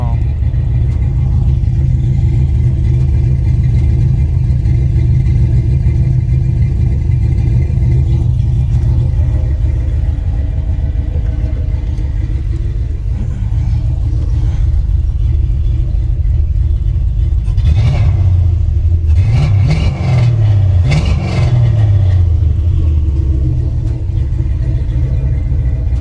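A 1987 Monte Carlo SS engine idles with a loud, close, steady low rumble, then gets a few quick throttle blips near the end that rise and fall in pitch.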